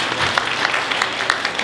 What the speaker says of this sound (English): let's give them an amazing round of applause